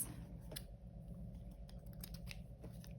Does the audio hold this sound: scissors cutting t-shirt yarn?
yes